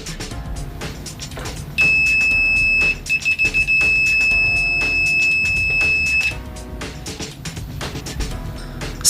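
A Sanwa PC7000 multimeter's continuity beeper sounds in a loud, piercing tone that holds for several seconds, broken by a quick series of short stuttering beeps.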